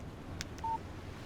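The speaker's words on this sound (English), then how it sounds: "Text message from Barry." A phone in the video game Alan Wake gives a short, faint text-message alert: a single brief electronic beep over a quiet, hissy background, with a couple of soft clicks before it.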